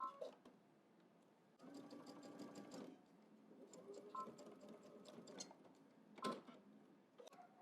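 A sewing machine stitches two pieces along a 3/8 inch seam allowance in quiet, close bursts of rapid needle clatter separated by brief pauses and small handling clicks.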